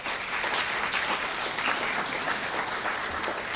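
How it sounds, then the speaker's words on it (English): A banquet audience at a 2022 FFA awards evening gives a sustained round of clapping, moderately loud and steady from start to finish. "Let's give Jordan another round of applause"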